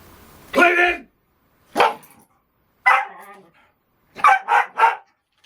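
A dog barks in four bursts, one single bark, then another, then a closer-spaced triple, loud and near, with silence between the bursts.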